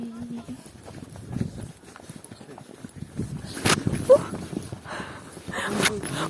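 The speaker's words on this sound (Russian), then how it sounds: "Я еду на лошади." Horse hooves clip-clopping on snow during a winter ride in Kazakhstan or Uzbekistan, a soft uneven rhythm of steps throughout, with someone talking over it in places.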